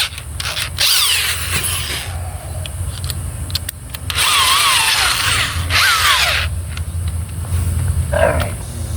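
Power drill boring into wood for a car audio door build, bursts of whining, loaded motor noise with short pauses between, loud and close, with no talking.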